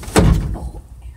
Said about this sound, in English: I tried to stop the door from slamming